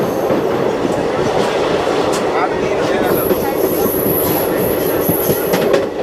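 Loud, continuous rumble and rattle of a train rolling along the tracks near Pamban Bridge, with a thin high squeal of wheels joining partway through.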